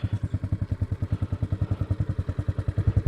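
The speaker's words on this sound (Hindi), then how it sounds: "ये रहा जी बुजुर्ग का बाइक" An old motorbike parked on a jungle trek route at Khaira Gali sits at a steady idle, thumping in quick, even pulses, near and with no talk over it.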